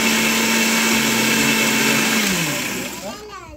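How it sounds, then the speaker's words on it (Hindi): A mixer grinder whirs loudly and steadily as it grinds cooled, cooked ingredients into paste in a grinding jar, its motor pitch holding, then dropping and winding down as it switches off near the end. "अब इसको ग्राइंडिंग करेंगे। हमने ग्राइंडिंग जार में डाल दिया है"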